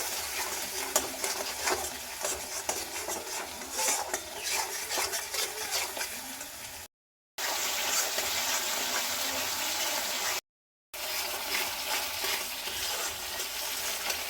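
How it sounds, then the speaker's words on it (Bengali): Ground spice paste for a bata fish curry frying in a pan as a little water goes in, giving a close, wet sizzle with steady stirring that cuts out twice for brief silent gaps. "মশলাটা কিছুক্ষণ কষিয়ে নেব, সামান্য করে এর মধ্যে জল দেবো।"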